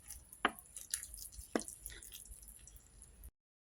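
Water is poured onto potted flower plants, making faint, close splashes and drips. Two distinct soft pours stand out, with light trickling between them in a quiet setting.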